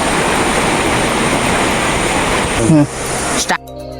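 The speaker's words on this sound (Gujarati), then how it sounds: "જે પુણ્યા મહાદેવ ધોધ પડે છે તેનું ઝરણું અહીંયા પાણી જઈ રહ્યું છે" A stream fed by the Punya Mahadev waterfall flows with a steady, broad rush of water up close. A voice speaks over it near the end, and the sound cuts off abruptly.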